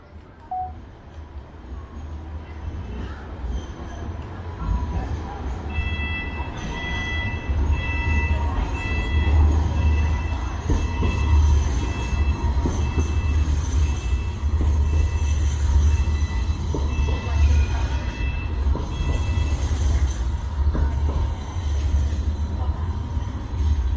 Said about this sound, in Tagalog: Tren na yun.